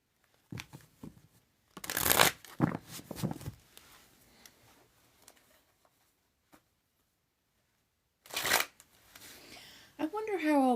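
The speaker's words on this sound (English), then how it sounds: "I wonder how I'll be able to shuffle these when I have 4-inch nails." Tarot cards are shuffled by hand in a few brisk riffling bursts, close and crisp, separated by quiet pauses and light handling, with a voice speaking briefly at the end.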